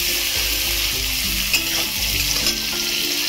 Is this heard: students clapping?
no